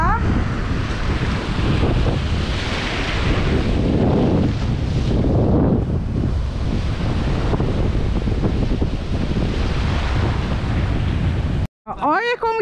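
Ocean waves and strong wind on a beach in Ceará, a steady roaring wash of surf and gusts buffeting the microphone throughout, with a brief dropout near the end followed by a voice.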